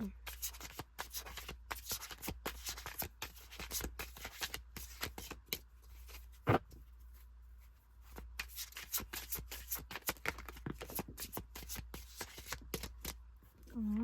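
Tarot cards riffle and flick rapidly in repeated bursts, close and crisp, with a person talking quietly between shuffles.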